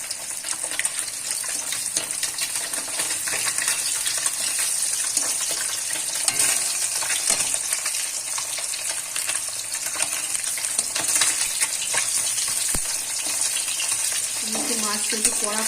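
Fish frying in a pan for a Bengali mustard fish dish, giving a loud, steady sizzle with a faint watery hiss throughout and occasional scraping near the end.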